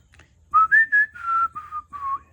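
A person whistles a short tune of about six clear notes, rising then falling, close and alone with no talking.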